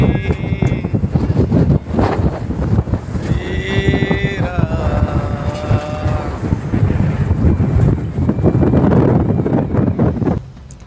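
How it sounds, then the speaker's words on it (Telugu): Strong wind roars continuously across an outdoor spot in Saudi Arabia, a loud buffeting rush that batters the microphone, with faint tonal sounds drifting through the gusts. "ఇక్కడేమో గాలి మంచి ఎంత గాలి ఎత్తుకుందో సౌండ్"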